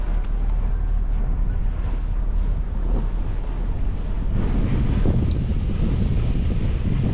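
Waves on Lake Oneida wash against a moving boat, a steady rushing slosh mixed with low engine rumble and wind buffeting the microphone, with no voices.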